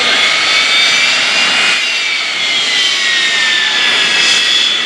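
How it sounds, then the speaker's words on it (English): Sea Harrier single-engine jet fighter at the 2018 Culpeper Air Fest, a steady loud roar with high whine running throughout the five seconds, no voices. "the Sea Harrier that is performing here in just a few moments."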